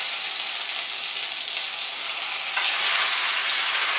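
Kangaroo mince frying in olive oil in a pan, a dense, steady sizzle heard alone and close up without any talk.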